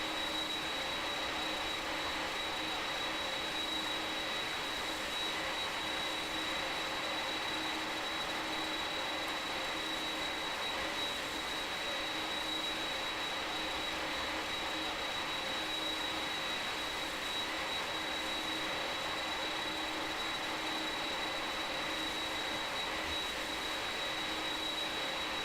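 Simulated Boeing 767 taxiing in a flight simulator game, a steady faint jet engine hum with a thin high whine held constant throughout, no voices.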